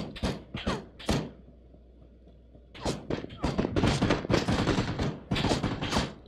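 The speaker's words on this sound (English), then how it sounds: "I'm getting shot now" Gunfire in the video game PlayerUnknown's Battlegrounds, sharp bursts of shots in quick clusters separated by a short quiet gap, loud and close.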